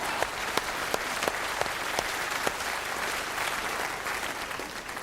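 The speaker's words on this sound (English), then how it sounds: "Give them a round of applause." Audience applause fills the whole stretch as a steady wash of clapping, with a few sharper individual claps standing out early on.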